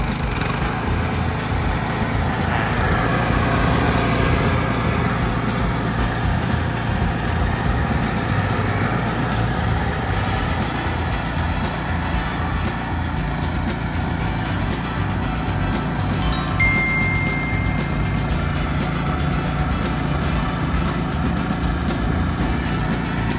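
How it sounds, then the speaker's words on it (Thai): A used Japanese ride-on lawn mower's small engine, already started, runs steadily at a constant loud drone close by for the whole stretch, with no voices. "เปิดสวิตช์ออนแล้วก็ดึงสตาร์ทได้เลยครับผม เครื่องติดง่ายนะครับ"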